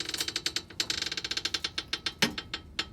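A Husky 3 ton garage floor jack lowers a vehicle as its release bar is turned slowly, making a rapid run of close, quiet metallic clicks and rattles with one heavier clunk near the end.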